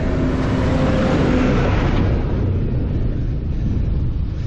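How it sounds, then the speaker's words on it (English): A lorry drives along a quiet rural B road, its broad engine rumble and road noise loud and close at first, then fading steadily as it moves away, with no talk. "There always seems to be lorries along here now."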